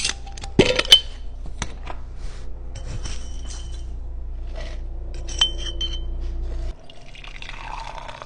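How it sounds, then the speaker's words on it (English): Tea is prepared in a glass tasting cup with a paper filter: a few sharp glass clinks and taps at first, then a quiet, steady trickle of poured water that stops near the end. "I'll be preparing this in one of my favorite glass tasting cups with a paper filter."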